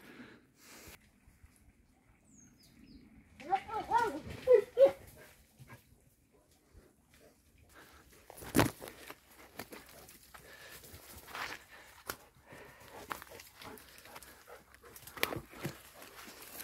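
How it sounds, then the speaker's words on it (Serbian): A Posavski hound cross sniffs, snorts and gives short barks and whimpers while training on wild boar outdoors, with a burst of yelps early on, then scattered barks and rustling at middle distance. "I ponovo se vrati da ga laje."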